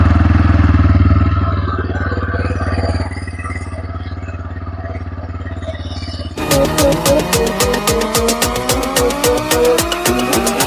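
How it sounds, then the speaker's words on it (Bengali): A TVS Raider motorcycle in nitro green with ABS brakes starts and settles into a steady, low, throbbing idle close by. After a few seconds, loud music with sweeping tones comes in over it. "একবার ক্লিক করছি, স্টার্ট উঠে যাবে বাইকে।"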